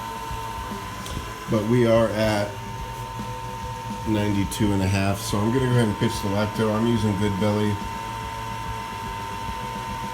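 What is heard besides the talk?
pump running to hold temperature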